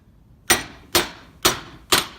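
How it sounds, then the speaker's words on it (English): Four evenly spaced, light metallic taps of a hammer on a U-joint held snug in a vise during a 2005 Dodge Ram 1500 repair, close and fairly quiet. "tap, tap, tap with the hammer"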